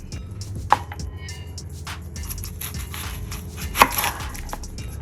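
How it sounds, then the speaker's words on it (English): A knife chops red onion on a board, with two crisp, sharp strikes a few seconds apart over quieter scraping and handling noise. "Let's cut a little red onion up."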